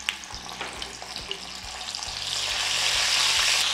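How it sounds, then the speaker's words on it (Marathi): Homemade ginger-garlic paste frying in hot oil with mustard seeds, cumin and asafoetida, starting with scattered pops and taps of stirring, then swelling into a steady, louder sizzle. "आपण काय परतले नाही म्हणून आधी आलं लसूण परतून घ्यायचं"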